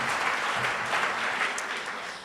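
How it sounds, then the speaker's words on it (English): A room audience gives a speaker a warm round of clapping, a thick, continuous patter of many hands heard fairly close and alone. "So give a warm applause to Shelley."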